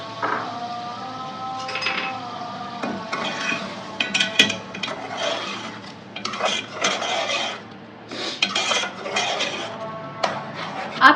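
Chicken korma being stirred and fried in a pot, with a spoon scraping and clinking against the metal in irregular bursts over a soft sizzle, close and fairly loud.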